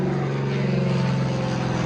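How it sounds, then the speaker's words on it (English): A propeller plane drones overhead, a steady, loud, continuous engine hum with no talking heard. "plane flying over"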